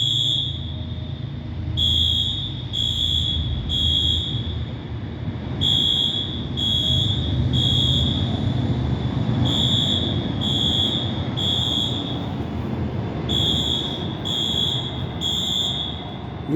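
A building fire alarm at Roxbury Crossing sounding continuously, a shrill high-pitched tone pulsing in repeated groups of three beeps over a steady background hum, with no voices.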